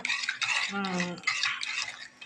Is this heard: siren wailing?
no